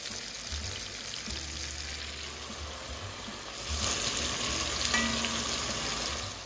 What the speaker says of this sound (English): I just felt like they needed a little more time to sizzle.